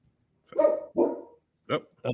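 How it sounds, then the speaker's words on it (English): Dogs bark in the distance in an office-like space with construction going on, a few bursts in a row, at moderate loudness, and voice-like sounds mix in. "We're going to hear dogs bark for the next hour."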